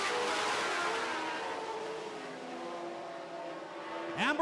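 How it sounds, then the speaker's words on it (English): Lightning sprint race cars race around a track: a high, rising engine whine fades as the cars pull away, then a loud car roars close past at the end, with no talking. "Here we go, lightning sprint racing."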